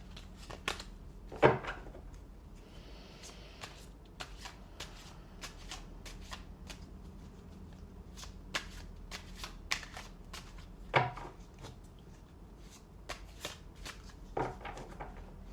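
Cards are shuffled quietly and repeatedly, with soft riffling bursts and a few sharper snaps, close up with no talking.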